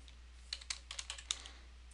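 Rapid, irregular keystrokes on a computer keyboard, close and fairly quiet, with bursts of clicks and short pauses during work on a file transfer setup; no voices.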